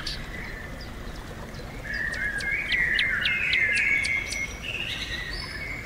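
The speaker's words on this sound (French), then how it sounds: "quelques oiseaux." Several birds chirp in a relaxing outdoor nature soundscape, their short, bright calls rising over a constant soft background wash, close and fairly clear for a few seconds.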